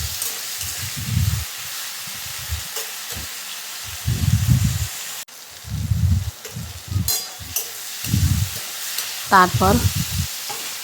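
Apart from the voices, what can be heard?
potatoes frying in pan with onion and tomato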